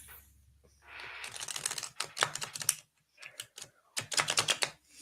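Playing cards are shuffled in quick riffling bursts, a long riffle followed by two shorter ones, crisp and close, with no talking.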